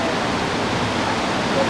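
Rushing water far below a viewpoint on a California trip, a dense, even, hissing roar with no breaks, steady and loud throughout the short stretch.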